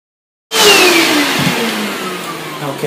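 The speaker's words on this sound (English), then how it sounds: "we're going to use it to vacuum carefully the dust from our film bath, both sides, and our black slides" A vacuum cleaner starts abruptly to clear dust from a large format film holder and its dark slides, a loud steady rushing roar with a falling motor whine and no talking.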